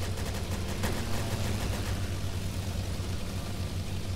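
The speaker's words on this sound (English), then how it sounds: "we're getting shot by AA machine guns" Sustained AA machine gun fire in the Roblox game Airship Assault, set in WWI air combat, a dense continuous rattle of shots with a steady low engine drone underneath, loud and unbroken throughout.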